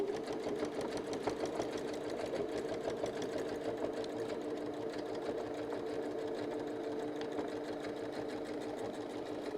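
A sewing machine stitches a rotating mandala quilting pattern, running in one steady, continuous mechanical whir with a fast stitching rhythm, close and even throughout with no talking.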